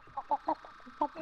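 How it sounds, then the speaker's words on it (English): A chicken in the 7 Days To Die video game clucks in a short series of about five close, distinct clucks with brief pauses between them. "We trapped the chicken, guys! We trapped the chicken!"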